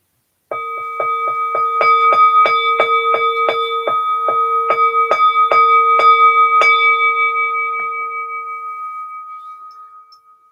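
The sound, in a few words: bell rung for the dead in a service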